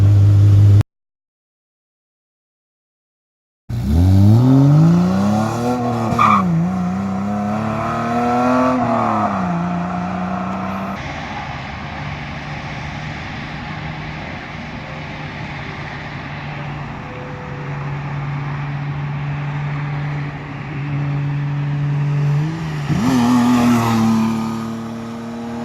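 An old BMW E30, a cheap car pulled out of the woods, runs with a fresh fuel pump, revving up and down in sweeping pitch changes before settling into a rough steady run, then blipping again near the end.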